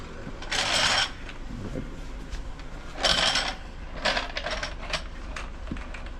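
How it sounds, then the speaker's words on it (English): Wheel nuts are tightened during a roadside flat-tyre repair, giving a few sharp metallic ratcheting bursts and clicks over faint background noise. "Oh no, we're tightening the nuts"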